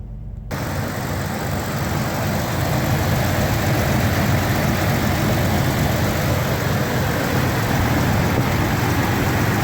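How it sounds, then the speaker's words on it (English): A stock 2005 Jeep Wrangler TJ with the 4-liter inline-six idles after starting, a steady, even low rumble that holds at a constant level throughout, close by with no talking. "Sounds nice and quiet for inline 6."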